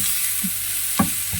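Onions sautéing in a pan, a steady close sizzle with a few soft spatula scrapes and one knock near the middle, no voices.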